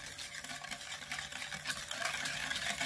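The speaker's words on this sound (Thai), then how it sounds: "โอเคเราก็จะคนให้น้ำตาลละลาย" Sugar is stirred into coconut milk until it dissolves, for a Thai sticky rice dessert wrapped in leaves. A soft, close, continuous liquid swishing and scraping from the stirring carries on without a voice.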